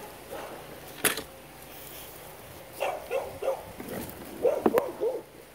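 A dog, after a storm, gives a sharp single bark, then a run of short yips and whimpering barks in small bursts, close by over a quiet outdoor background.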